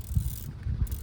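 A filter housing wrench ratchets on the oil filter housing of a 2021 Toyota Avalon 3.5L V6, a short burst of soft close clicking that lasts about a second.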